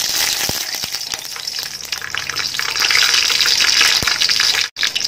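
Whole cinnamon, cloves and cardamom hitting hot oil for chicken madghut biriyani: a steady, close crackling sizzle with a few sharp pops, dipping briefly near the end.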